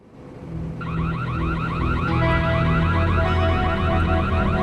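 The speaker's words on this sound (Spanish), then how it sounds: "Los guardias de seguridad del Lincoln Hill Estates en Paradise Valley, Arizona, oyen una alarma de robo y llaman a la policía" A burglar alarm sounds at Lincoln Hill Estates, a residential community in Paradise Valley, Arizona, in 1988. The fast, warbling electronic tone rises quickly and then holds steady and loud over a low background rumble.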